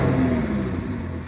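A 2011 Audi R8 with a 5.2-litre V10 runs with a loud, close, steady engine drone that eases slightly over a very brief moment, without speech.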